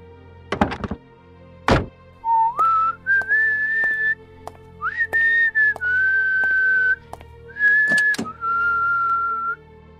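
A priest whistles a short, wavering tune in several sustained phrases, broken up by sharp thunks and knocks as he opens the hood of his car.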